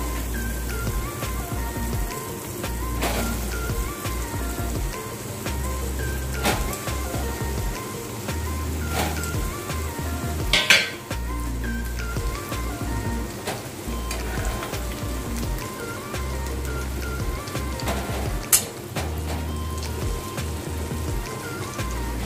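Banana flower chops deep frying in hot oil, a continuous crackling sizzle with scattered louder pops and a couple of sharp clinks near the pan.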